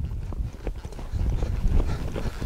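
A mustang being trained carries a rider on an outdoor trail, its hooves thudding in an uneven clip-clop rhythm up close against a low rumbling background.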